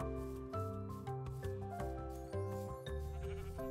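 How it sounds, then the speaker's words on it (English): Sheep in the video game Minecraft bleat repeatedly in short wavering calls over soft background game music, fairly quiet and close. "Ooh, sheep?"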